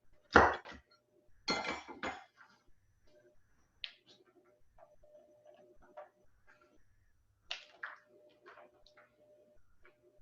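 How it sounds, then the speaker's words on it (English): A knife chops nuts on a cutting board for pumpkin bread, with a few sharp, well-spaced thuds and light clicks, close and fairly quiet, with pauses between strikes. "And we'll chop up a few nuts here for those that like them."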